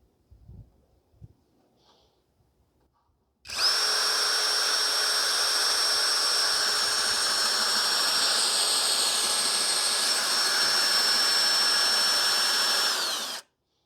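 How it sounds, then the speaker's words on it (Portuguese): A Hanabi 16V cordless drill running with a 3/4 bit in drilling mode: after a few faint knocks, a loud high-pitched motor whine starts abruptly, holds steady for about ten seconds, then cuts off. "Vou começar aqui com a broca de 3/4 e vou deixar aqui no modo perfuração"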